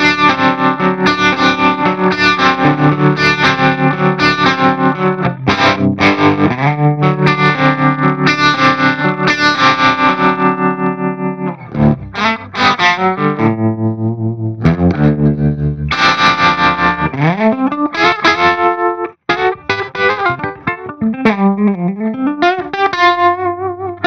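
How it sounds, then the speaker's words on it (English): Distorted electric guitar through a bias tremolo effect on an Axe-Fx III, a swampy rhythmic pulsing of sustained chords and riffs with pauses between phrases, loud and alone. "This to me is just your classic like swamp tremolo kind of sound."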